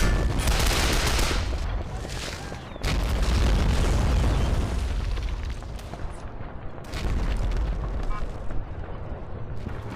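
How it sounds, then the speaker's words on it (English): Artillery cannon fire and explosions in a World War II battle at Küstrin, with heavy, continuous booming and rumbling in repeated loud waves and dense battle noise throughout. "So that cannon's still going strong"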